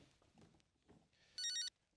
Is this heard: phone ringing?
yes